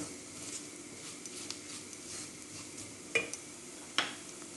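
Flour toasting in a pot for a spicy bulgur soup is stirred steadily, giving a soft continuous hiss and scraping with two sharper utensil scrapes near the end.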